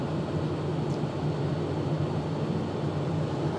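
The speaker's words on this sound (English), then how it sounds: "sorry about the noise, but tire inflators do get loud." A cheap portable tire inflator runs continuously with a loud, steady mechanical droning hum and no pauses or voices.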